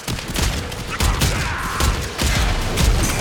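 Rapid automatic gunfire from a Warframe solo survival mission rattles continuously in dense bursts, loud and close, with explosive thumps and game effects mixed in.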